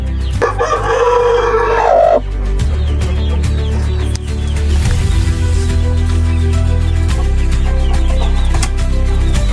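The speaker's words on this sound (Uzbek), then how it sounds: "Ha o'rtoqlar, mayskiy xo'rozimiz." A young rooster hatched in May lets out a loud, near crow of about two seconds. Busy fowl clucking and some wing-flapping follow at a steady level.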